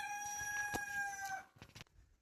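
A rooster crows once nearby in rural Konkan, a drawn-out harmonic call, followed by a few short clucks and faint rustling.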